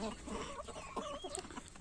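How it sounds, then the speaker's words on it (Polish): Chickens cluck softly in an outdoor run, a faint scatter of short overlapping clucks and chirps over a low background hum. "możecie zobaczyć, że są tu też inne kurczaki"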